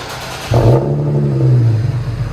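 An Infiniti G37 with a 3.7L V6 and aftermarket exhaust gives a single sharp rev that swells into a deep, loud, throaty roar, holds briefly, then eases back toward a rumbling idle, heard up close.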